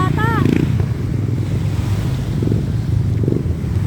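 A motorcycle engine drones as it rides through floodwater in Pampanga, Philippines, with rushing, splashing water and heavy wind buffeting, and a voice speaks briefly at the start.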